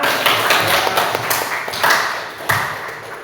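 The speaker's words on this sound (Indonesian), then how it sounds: "Beri tepuk tangan anak-anak." Children in a classroom clap together in a brief burst of applause, with sharp close claps scattered over a few seconds and fading toward the end, with no talk over it.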